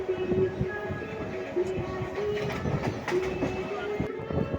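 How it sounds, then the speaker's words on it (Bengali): A moving passenger train rumbles continuously from inside a carriage, with rhythmic wheel clatter and faint metallic squeals over a steady roar. "ট্রেন ছেড়ে দিয়েছে।"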